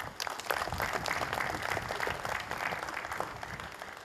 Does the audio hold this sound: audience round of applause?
yes